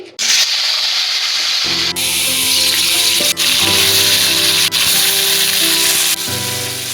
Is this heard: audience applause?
no